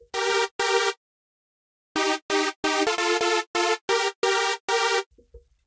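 Standard polysynth preset in FL Studio, playing a loud, bright, buzzy chord in short staccato stabs: two hits, a pause, then a quick rhythmic run of chords, dry and up close.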